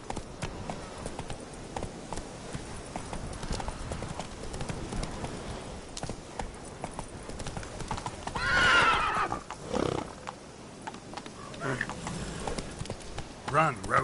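A horse named Roach in the video game The Witcher 3: Wild Hunt gallops with rapid clip-clopping hooves. A loud whinny rises near the middle, over steady game ambience with some voices.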